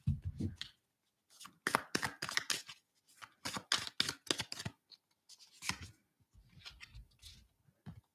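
Tarot cards being shuffled by hand, quick papery riffles and slaps in uneven bursts with brief pauses, close and soft.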